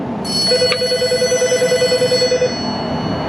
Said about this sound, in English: And the phone's ringing too.